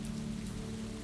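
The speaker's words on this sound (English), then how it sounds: "the steady patter of rain on a roof" Steady rain patters on a roof, a dense, even wash of drops that continues without a break for the whole moment, close and moderately loud.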